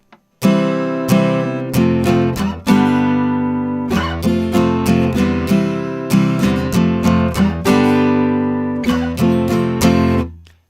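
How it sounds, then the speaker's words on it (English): Syncopated guitar strumming, each chord struck sharply and decaying, with upstrokes that land as muted, percussive string clicks rather than ringing chords; loud and close, played alone in a steady groove. "what you heard was really more muted strings than a ringing chord"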